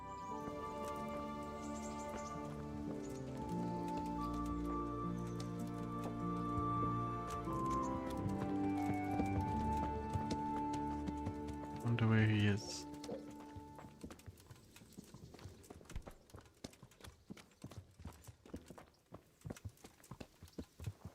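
Steady hoof clip-clop in Kingdom Come: Deliverance over layered music, with a loud burst near the middle and the music thinning out afterwards.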